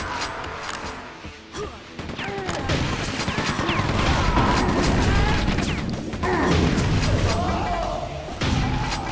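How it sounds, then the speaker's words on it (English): Online match of Quake 2 Remastered with gunfire: dense, rapid weapon blasts and crashing impacts pile up almost continuously, loud and close, over game effects and some talk. "What the hell is this guy shooting at?"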